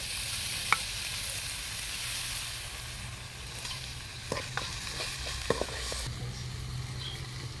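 A steady, soft sizzle of onions and tomatoes frying in a pan, with a few light clinks of a utensil stirring.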